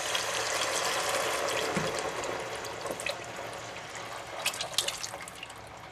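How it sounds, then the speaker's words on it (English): Beef stock pours into a pot of French onion soup, a continuous liquid splash and trickle that ends in a few drips and clinks, close and moderately loud with no talking. "Now to add the beef stock."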